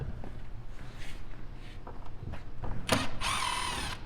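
A power drill backs sheetrock screws out of the rear body kit of an Acura RSX Type-S, with a short whirring burst near the end after some clunks and handling noises.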